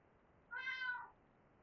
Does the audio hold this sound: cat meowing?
yes